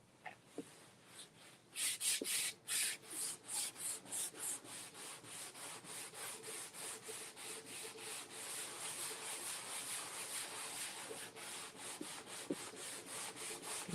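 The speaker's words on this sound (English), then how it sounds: "you want to wax your surface. So I'm just using our surface wax. I just have a rag." A rag rubs surface wax onto a wooden sign in quick back-and-forth strokes, a rhythmic dry swishing that starts sparse, then becomes steady and close, continuing alone throughout.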